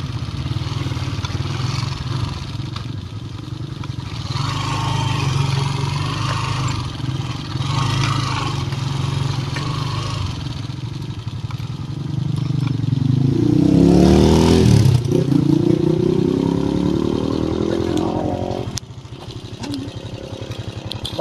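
A motorcycle approaches and passes along a rural road near the El Tineral canton, its engine rising to a loud, close swell before fading, over steady background engine rumble.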